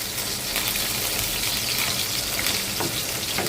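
Fish sizzling as it fries crisp in a hot pan, a steady dense crackle and hiss that continues without pause for a few seconds, close and fairly loud, with no talking.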